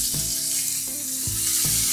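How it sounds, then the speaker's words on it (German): Pangasius fillet frying in a hot pan, a steady loud sizzle with a few soft knocks as it is moved, no voices. "Und lasse es gut für 2-3 Minuten braten"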